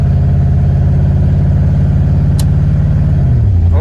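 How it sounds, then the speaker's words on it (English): A 1993 Ford Mustang GT with a 5.0L V8 and AOD automatic transmission runs steadily and loud up close during a transmission test, a constant engine drone whose pitch drops slightly near the end. "That's how I test an automatic transmission."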